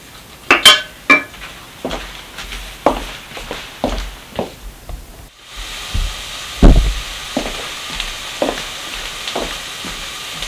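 Onions going into a pan of not-yet-hot oil, with clinks of utensils against the pan and soft stirring, then a gentle sizzle building in the second half amid scattered scraping taps.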